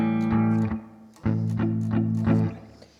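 A cheap old guitar plays a heavy, distorted metal tone through Neural DSP amp modelling, with several loud palm-muted chugs and sustained chords ringing out alone, cut by short pauses.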